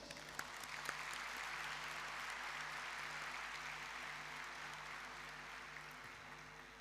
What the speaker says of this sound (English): Let us all together welcome these excellent personnel with a thunderous applause